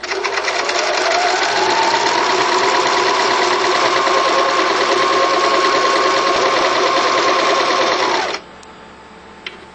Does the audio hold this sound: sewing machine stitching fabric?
yes